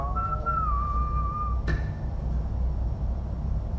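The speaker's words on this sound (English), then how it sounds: "You whistling your heart's content." A character whistles a sustained, gliding tune in the Far Cry 5 video game, clear and fairly close over a low, steady background rumble, ending abruptly after a sharp click.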